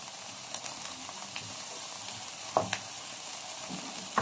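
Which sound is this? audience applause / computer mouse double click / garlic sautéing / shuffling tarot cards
garlic sautéing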